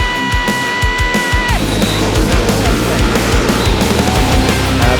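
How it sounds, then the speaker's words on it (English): NASCAR Euro Series touring car engines fire up together into a loud, rough, continuous roar, with sharp revving pulses early on before settling into a steady deep rumble. "Drivers, start your engine!"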